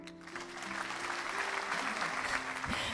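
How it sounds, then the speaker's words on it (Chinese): An audience at a talk breaks into sustained applause, a dense wash of clapping that swells slightly and holds for a few seconds with no speech over it. "谢谢大家的掌声"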